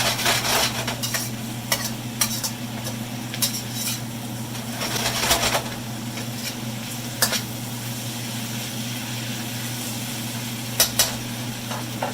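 Shrimp cooking in a hot pan, a continuous sizzle with repeated sharp clinks and scrapes of a utensil against the pan, close and fairly loud with no talk.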